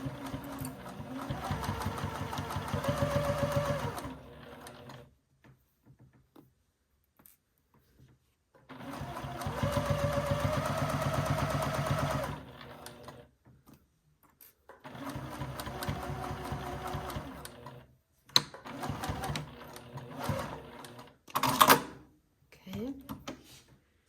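A sewing machine stitching in three long runs of a few seconds each, close and steady, separated by quiet gaps. Between the runs come brief clicks and handling noises, and a person talks nearby.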